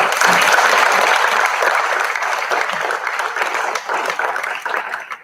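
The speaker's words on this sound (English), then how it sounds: "you got to applaud these kids, parents" Parents applauding graduating seniors at a school athletics and senior awards night, a loud, dense burst of clapping from a large crowd that slowly thins and fades toward the end.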